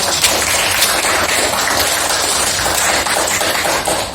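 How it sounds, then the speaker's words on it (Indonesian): Children in a classroom clap their hands together in a dense, loud burst of applause that fills the whole moment without pause. "Tepuk tangan."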